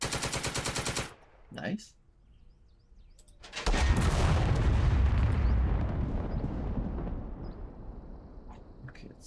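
A tank's main gun fires in the World War II video game Second Front, during a tank battle for Caen. One heavy boom rolls into a long, loud rumble that slowly fades, after a brief burst of game noise and a short spoken word.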